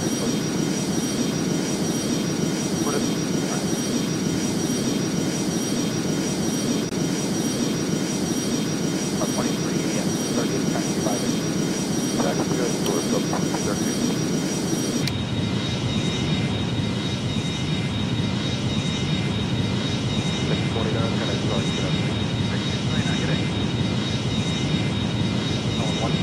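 Airbus A300 jet engines roar steadily on takeoff in the Airline Commander flight game, a loud continuous engine rumble with a constant whine that shifts tone partway through, while radio-style talk runs underneath.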